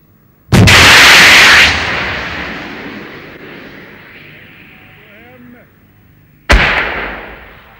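An anti-tank missile launches with a loud blast, then a long fading rush of flight over about six seconds, ending in a sharp impact burst on a main battle tank fitted with explosive reactive armour, 1,270 meters away.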